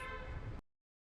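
A car horn blares once in a steady, fairly loud honk for about half a second, then cuts off into silence.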